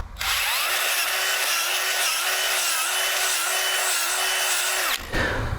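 A cordless drill spins a bulb planter auger into garden soil, a steady high motor whir with gritty scraping for about four and a half seconds before it stops abruptly.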